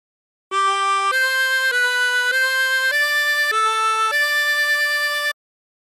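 A harmonica plays the slow melody of Aura Lee in sustained, reedy notes, stepping through about eight tones in a row, loud and clear with no talking.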